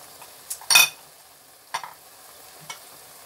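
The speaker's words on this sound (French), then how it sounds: "je remue maintenant" A spoon stirs okra gombo with smoked fish, bay leaves and ras el hanout in a pan, giving a few sparse, soft scrapes and clinks with quiet pauses between them, close by and with no talk.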